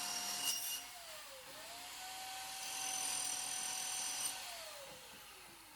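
A cold cut saw slices through steel for a fireplace surround, its high whining tone dipping in pitch as the blade bites in, then recovering, over a steady grinding hiss.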